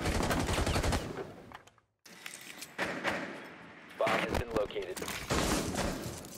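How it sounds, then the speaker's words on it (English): Gunfire rings out in a Rainbow Six Siege match: loud, rapid bursts with heavy thuds, a short silent gap, then more volleys and impacts. Players talk over the shooting. "The guy's shooting me through the floor"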